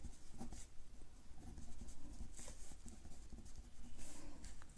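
A pen writes on paper during a maths lesson, with quick scratchy strokes and taps close by, fairly faint and steady throughout.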